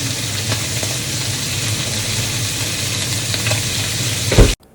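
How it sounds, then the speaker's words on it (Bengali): Onions frying in a pan as a Bengali-style vegetable dish with eggplant and potato is cooked, giving a steady close sizzle with occasional utensil scrapes and a sharp clatter just before it cuts off. "পেঁয়াজটা ভাজা ভাজা হয়ে এলে তার মধ্যে আগে থেকে ভেজে রাখা বেগুন আলুগুলোকে দিয়ে দেব।"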